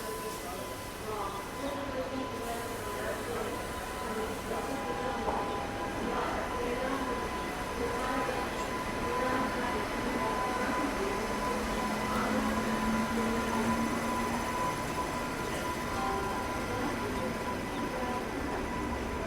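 Steady rumble and hum of a WAP 7 electric locomotive moving coaches at Gwalior station, continuous and fairly loud, with a faint voice in the background.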